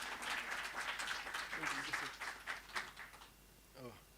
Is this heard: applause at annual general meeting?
yes